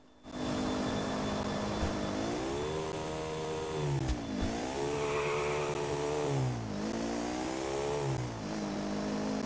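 A car in Grand Theft Auto revving steadily, its mid-pitched engine rising and falling through several acceleration swells over about nine seconds, loud and close with no talking.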